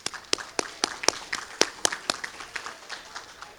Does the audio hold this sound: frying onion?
no